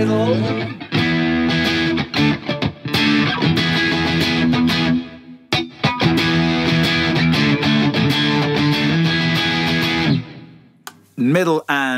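Distorted electric guitar played through the middle and neck pickups together, a hum-cancelling reverse-wound, reverse-polarity pair, ringing in dense sustained chords and riffs with brief breaks and a short pause midway, loud and alone before a voice begins at the end.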